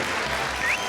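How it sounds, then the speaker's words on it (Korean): Wedding guests applaud at Lee Jang-woo's wedding as a guest is welcomed, a brief, dense wash of clapping that stays loud and steady for about a second. "전현무 선생님을 박수로 맞이해 주시기 바랍니다"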